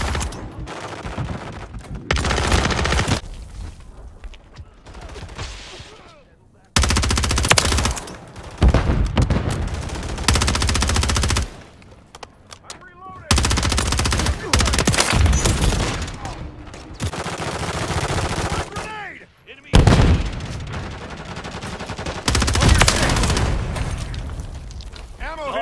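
Rapid bursts of Rook SMG fire in Call of Duty Modern Warfare 3 multiplayer gameplay, loud automatic strings broken by short pauses, mixed with game effects and radio-style voice callouts.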